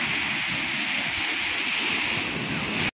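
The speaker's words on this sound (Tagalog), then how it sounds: "Kasama ko si Murphy dito sa dagat." Sea waves wash in at a beach, a steady loud hiss of surf with gusty wind buffeting the microphone, continuous for a few seconds with no speech before it cuts off.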